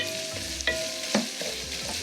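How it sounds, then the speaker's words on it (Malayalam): Three crushed green chillies sauté in a pan, a close, steady sizzle broken by a few sharp scraping stirs of a spoon, with no one talking. "ഇനി ഇത് നന്നായിട്ട് മൂപ്പിച്ചെടുക്കണം."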